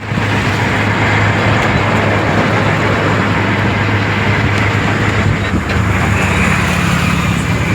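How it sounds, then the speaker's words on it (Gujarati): A Hero Super Splendor motorcycle engine hums in a loud, steady drone close by, with constant road noise and no clear rise or fall across the stretch. "જો આ ભાઈ આવી ગયા આપણે લેવા માટે એની સુપર સ્પ્લેન્ડર ગાડી લઈને"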